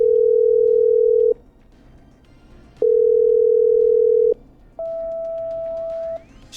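Telephone call being patched through in the video game Killer Frequency: two long steady dial-tone beeps separated by short gaps, followed by a higher, shorter connecting tone, loud and clean with no talking.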